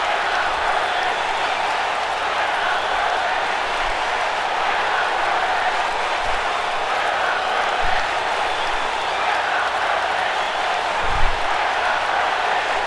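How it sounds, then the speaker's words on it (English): An arena crowd in WWE 2K19 roars and applauds continuously, a dense, steady wash of cheering at even volume throughout. "The crowd obviously getting electric here tonight."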